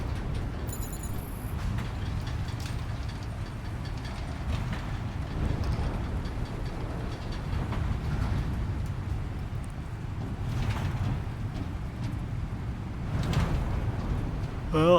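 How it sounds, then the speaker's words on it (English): A monorail ride in Death Stranding 2 carries a steady low rumble and hum of the moving car, continuous and even with faint clacks and rattles, no voices over it. "I still wish there was a little speed up the monorail"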